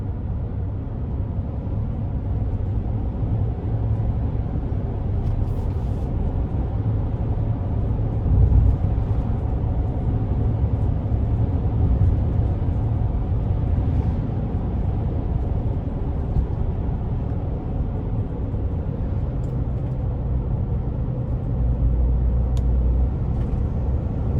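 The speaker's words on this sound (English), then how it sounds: "this thing sounds like a turbo diesel truck" A 2021 Ford Transit 250 conversion van driving at speed, its loud turbocharged engine giving a steady, deep drone with road rumble underneath, continuous and close throughout.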